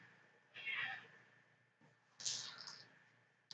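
A pet cat being stroked lets out two soft, drawn-out meows, faint and close, separated by a quiet pause.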